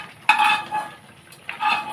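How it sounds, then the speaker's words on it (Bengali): A spoon stirs chicken do pyaza with fried vegetables in a cooking pan, giving two short bursts of scraping and clinking against the metal. Nobody speaks. "মাংসটা ভালো করে নেড়ে চেড়ে নেব"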